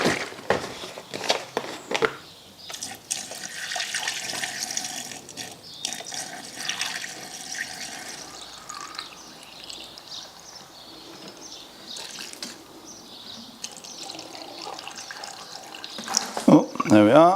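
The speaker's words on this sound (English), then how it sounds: "It's a screen wash topped off." Screen wash fluid pours from a bottle into the washer reservoir of a BMW, a steady gurgling liquid stream, quiet and close, with brief rattles at the start and end.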